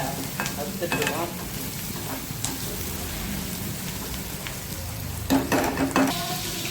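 Fish frying in a pan beside browning onions, with a continuous close sizzle and crackle like light rain, punctuated by a few sharp utensil knocks early and near the end, with no voices.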